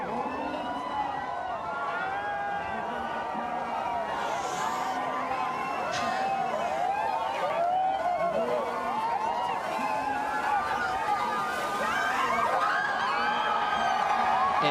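Hundreds of fans cheering at a professional surfing contest on finals day at the Gold Coast, a dense sustained roar of voices and whistles running throughout beneath an announcer's commentary.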